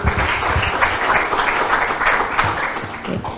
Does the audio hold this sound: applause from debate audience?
yes